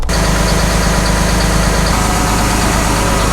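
Tractor engine idling steadily after coming out of cold storage, a loud, even low rumble with constant vibration and no pauses throughout.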